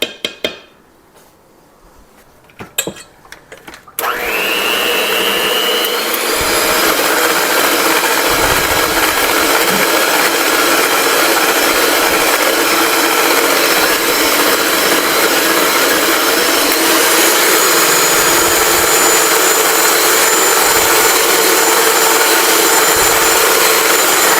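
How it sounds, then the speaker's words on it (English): A few quiet clanks, then an electric mixer starts and whirs loud and steady for about twenty seconds, beating lumps out of a mixture, with bowl knocks underneath. "I think I'm going to use an electric mixer here just to get some of these little lumps out"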